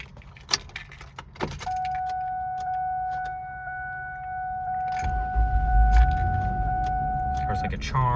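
A 1997 Ford Taurus LX wagon with a clunk and key jangle before a steady tone sounds, then the engine turns over around the midpoint and settles into a loud, close idle.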